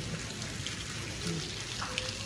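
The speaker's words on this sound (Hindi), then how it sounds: "इतनी तेज़ बारिश शुरू हो गई है" Heavy rain falls steadily at a home, a dense even hiss with scattered drops and splashes throughout, fairly faint and continuous, with no voices.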